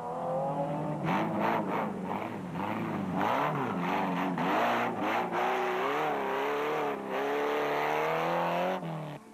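Off-road racing vehicles at the Ford Carnival City 400 in Southern Africa, engines revving and rising loudly in pitch as they accelerate, the sustained roar continuing close throughout.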